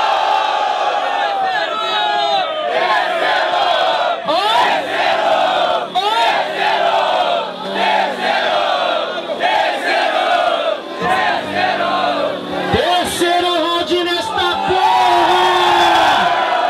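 A large crowd at a freestyle rap battle cheers and shouts loudly, with whoops and yells rising and falling in waves.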